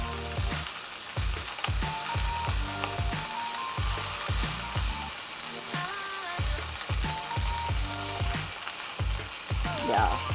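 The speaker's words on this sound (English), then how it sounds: "because I want to sear all the sides, I'm just gonna hold it up like that and get the sides also" A rosemary rack of lamb sears in a hot frying pan with a steady, loud sizzle and crackle, punctuated by clattering scrapes and knocks as the meat is turned and held against the pan.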